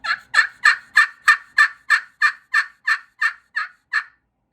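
A hand-operated turkey call imitates a spring gobbler with about a dozen sharp, evenly spaced yelps in a steady rhythm, loud and close, falling silent at the end.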